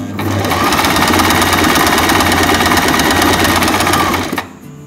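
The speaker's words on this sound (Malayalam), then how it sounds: "ഇനി വീണ്ടും സ്റ്റിച്ച് ചെയ്യാം" A sewing machine stitching fabric runs in one loud, steady, fast mechanical whir close by for about four seconds before stopping abruptly, leaving faint room noise.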